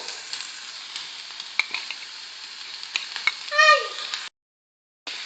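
Onion and a garlic clove sizzle in two spoonfuls of vegetable oil over medium heat for a Moroccan stuffed bread filling, a steady close crackle with small pops that briefly swells, then cuts off for a moment before resuming.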